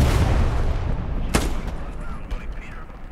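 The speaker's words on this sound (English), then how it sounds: "Sounds like it might be another Puma. It's firing pretty quick." A Puma armored car fires in the video game Hell Let Loose: one sharp, loud shot cracks out amid a low, rumbling battlefield din, followed by fainter distant thuds.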